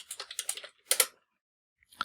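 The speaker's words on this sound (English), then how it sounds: "So I just typed ls space so tab and then n tab." Quick keystrokes on a computer keyboard in a Linux terminal, a rapid burst of clicks followed by a short pair of taps, a pause, then one final keypress, close and clear with no talking.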